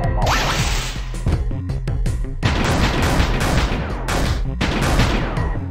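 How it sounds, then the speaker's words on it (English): Dense, loud gunfire and impacts in the game LISA: The Hopeful, a continuous barrage of shots layered over music with brief breaks, close and busy throughout. "that was a really good round of shooting there"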